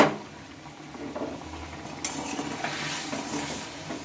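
Spices stirred through a hot, sizzling pan, a steady frying hiss with scraping spoon strokes against the metal, growing busier and louder partway through, no voices.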